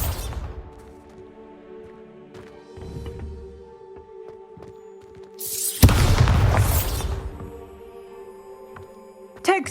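A Bombarda spell blast in the video game Hogwarts Legacy lands as a loud, close booming burst with crackling debris about midway through, over a sustained musical drone and scattered lighter effect sounds.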